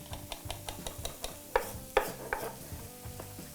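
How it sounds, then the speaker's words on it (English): A knife chops capers on a cutting board in a steady series of soft taps, with a few sharper, louder knocks partway through, all close and fairly quiet. "I'm just going to chop these capers up"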